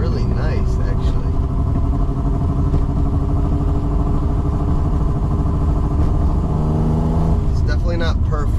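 A BMW E28 with an M30 engine on individual throttle bodies and a full exhaust drives along, its steady engine drone continuous and close, with people talking over it at the start and end.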